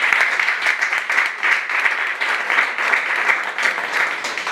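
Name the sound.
audience applauding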